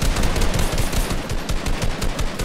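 Rapid, dense automatic gunfire from a Fortnite match rattles continuously and loudly throughout, with overlapping bursts and no pauses.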